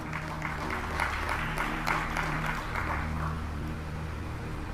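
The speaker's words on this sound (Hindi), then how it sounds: "जिनको समझ आई उनने ताली बजाई।" Audience clapping at a Hindu religious discourse (katha), a steady wash of many hands throughout, moderately loud, with a sustained tonal hum beneath.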